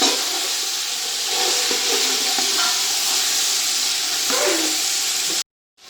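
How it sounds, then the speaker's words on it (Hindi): Chicken frying in a pot for yakhni pulao gives a steady, close hiss and sizzle with faint stirring scrapes, running continuously before cutting off near the end. "और इसको पकाएंगे तकरीबन 3 से 4 मिनट सिर्फ हमने इनको भूनना है।"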